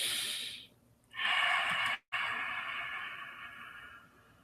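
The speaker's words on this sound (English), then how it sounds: "Take a deep breath and exhale." A person takes a slow, deep breath in, pauses briefly and then lets out a long, airy exhale. The breathing is close and fairly quiet, with no talking.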